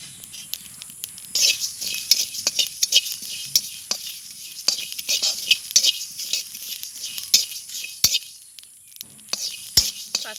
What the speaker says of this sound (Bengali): পাঁচফোড়নটা আমার ভাজা হয়ে গেছে।